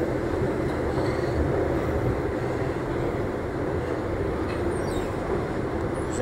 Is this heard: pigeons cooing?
no